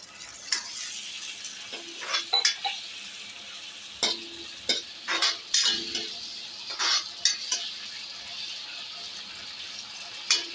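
Masala pasta with Maggi masala and a splash of water cooks in a pan, sizzling steadily while a spoon scrapes and stirs in irregular bursts of clinks and scrapes, close up and without talk.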